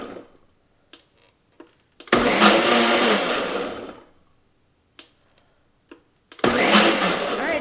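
A Ninja Foodi blender pulses soup vegetables in two loud whirring bursts of a couple of seconds each, separated by quiet gaps with light clicks and taps.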